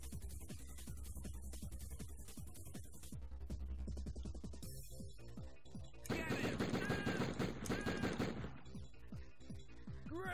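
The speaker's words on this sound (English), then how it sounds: "Now I have a machine gun!" Rapid machine gun fire in the video game Die Hard Trilogy, steady rattling bursts throughout, growing denser and louder in the second half, with a voice talking faintly underneath.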